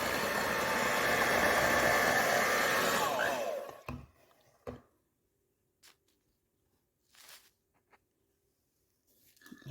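An electric mixer whirs loudly and steadily through pound cake batter with flour and 7-Up, then cuts off, leaving a few faint clanks and small kitchen knocks.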